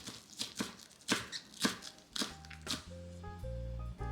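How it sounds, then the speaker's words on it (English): Knife chopping green onions on a cutting board for a mapo tofu topping, about eight crisp, evenly spaced cuts, close and clear, followed by faint background music swelling at the end. "Cut green onions for topping."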